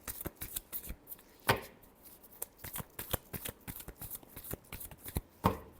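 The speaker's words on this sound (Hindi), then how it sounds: "Last shuffle." Tarot cards being shuffled by hand, a quick series of soft riffling snaps and slaps at irregular intervals, close and fairly quiet.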